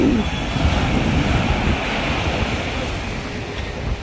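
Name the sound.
strong wind at the seashore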